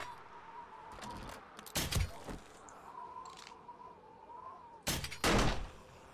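Gunshots in the zombie survival game 7 Days To Die, two separate sharp bangs a few seconds apart, loud and close, over a quiet hum with faint background noise.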